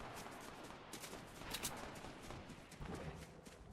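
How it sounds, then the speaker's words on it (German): Gunfire in the Fortnite video game comes from behind the player as a dense, continuous crackle of shots, with a few louder bursts standing out against steady background game noise. "Hinter dir wird auch geschossen, pass auf."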